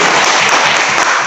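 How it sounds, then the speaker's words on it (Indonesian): Classroom of students applauding a classmate, a short dense burst of many hands clapping together, loud and close. "Bagus, tepuk tangan buat Anu."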